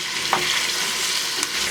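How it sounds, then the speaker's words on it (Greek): Onions, carrots, garlic and celery sautéing in hot olive oil in a pan, a steady close sizzle with a couple of brief stirring scrapes, no voices. "Θα σοτάρουμε ώσπου να μαραθούν."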